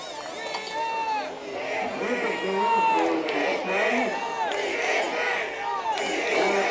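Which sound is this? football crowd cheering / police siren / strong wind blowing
football crowd cheering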